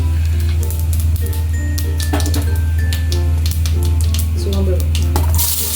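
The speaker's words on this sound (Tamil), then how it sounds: "எண்ணெய் ஊற்றி அதுக்கு தாளிக்கிறதுக்கு கொஞ்சம் சோம்பு போட்டுடலாங்க." Fennel seeds hit hot oil for tempering a South Indian tomato rice, and a loud, steady sizzle and crackle fills the scene with scraping stirring sounds over it.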